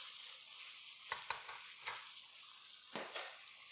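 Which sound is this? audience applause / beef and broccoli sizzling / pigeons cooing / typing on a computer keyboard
beef and broccoli sizzling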